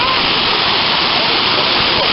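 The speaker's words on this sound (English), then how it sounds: "There's the actual waterfall itself." A park waterfall roars in a dense, steady rush of falling water, loud and close, with no break across the short stretch; speech may run faintly beneath it.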